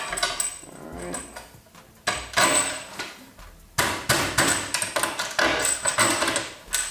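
A hammer taps a bolt into a garage shelf, sharp metallic strikes close by, first scattered, then in rapid repeated bursts.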